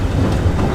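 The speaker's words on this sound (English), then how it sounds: "They quietly faded away to the sounds of the wheels of a train." Train wheels clack over the rails beneath a wagon, giving a steady loud low rumble at close range.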